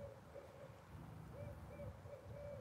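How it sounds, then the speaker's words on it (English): An owl hoots in the daytime, a faint, distant series of soft repeated hoots over steady background noise. "I hear the owl. Can you hear it?"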